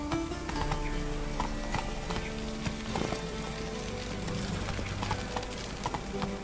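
Roach the horse galloping in The Witcher 3, a steady stream of hoofbeats under a wash of rain, close and continuous.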